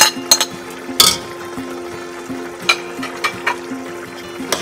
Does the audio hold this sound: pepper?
yes